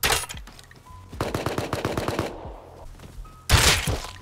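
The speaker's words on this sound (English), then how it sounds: "keep shooting" Rapid automatic gunfire in the survival video game Rust, a loud close burst of about a dozen evenly spaced shots, a brief pause, then another sharp blast.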